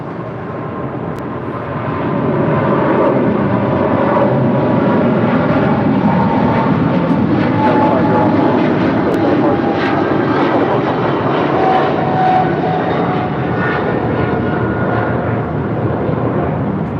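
A large cargo jet passes close by, its engine roar rising quickly after a quieter start and then holding loud and steady, broad and rumbling, with no talk.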